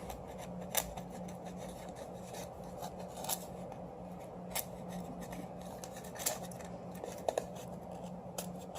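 A fishing float made with reflective tape is trimmed of excess slag, giving faint, sparse snips and scraping cuts at irregular intervals over a quiet, steady background hum.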